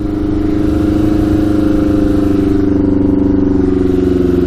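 A 100 HP Yamaha Banshee quad revs hard and accelerates up through the gears, a loud, close, continuous two-stroke engine drone that holds steady and rises slightly in pitch throughout.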